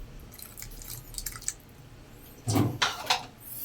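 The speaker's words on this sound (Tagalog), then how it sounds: "Lagyan natin ng kunting" A small splash of water pours into a thick sauce mixture while cooking, a brief wet gurgle after a few soft drips and clinks.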